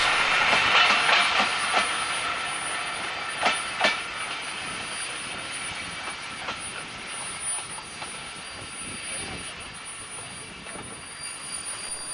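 LNER Class N2 0-6-2 tank locomotive number 1744 arrives on the Great Central Railway with a Rothley to Loughborough local passenger service. Rhythmic wheel clicks and brief squeals sound at moderate distance, fading gradually as it slows, with no talk.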